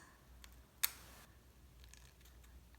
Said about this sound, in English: I like to use little nail scissors because I feel like they do a closer job of cutting